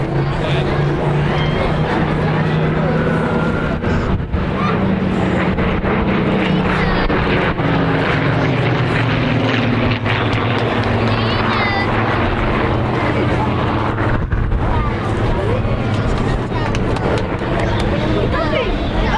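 A Spitfire Mark 19 propeller fighter flies at the Blackpool Airshow, its engine drone steady and distant beneath a commentator's continuous talk and crowd murmur.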